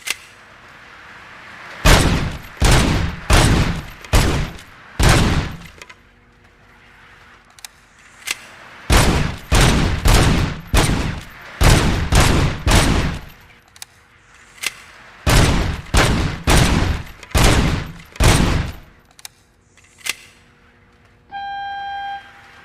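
Gunfire from weapons in RoboCop: Rogue City comes in three clustered volleys of sharp, loud shots, each burst several evenly spaced cracks, separated by short quiet gaps.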